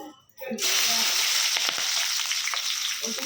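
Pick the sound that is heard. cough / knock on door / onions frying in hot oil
onions frying in hot oil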